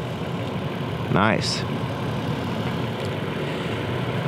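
The 4.0-liter 24-valve V6 of a 2019 Toyota 4Runner Limited Nightshade, which has a mechanical fan, idles with a steady low rumble throughout. A person says a brief word over the engine partway through.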